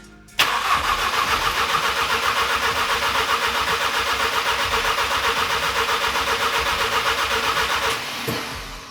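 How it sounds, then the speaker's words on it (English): An Audi with major engine damage cranks over with its fuel pump fuse removed, the starter turning the engine in a loud, steady rhythmic churn for about eight seconds without firing, then cutting off. "I want to crank this thing over for a little while before starting it."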